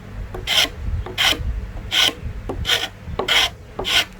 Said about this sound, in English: just put it perpendicular and pull it towards yourself. It's called scraping.